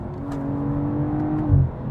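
A 2022 BMW M440i xDrive Gran Coupe in Sport Plus accelerates, its engine droning steadily with a rising tone, then gives a brief deeper thump near the end as it shifts.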